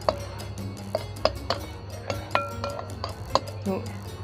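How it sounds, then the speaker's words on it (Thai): Fish sauce mixture stirred in a bowl for a Thai shrimp rice-noodle salad, with a spoon giving light, irregular clinks and taps against the dish over a steady low hum. "คนกับน้ำปลาให้เข้ากันเลยนะ"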